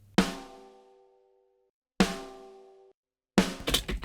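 A snare drum one-shot sample, top microphone soloed, struck three separate times: two hits ringing out with a long pitched decay, then a brighter, more metallic hit at the end, all loud and close with no talking.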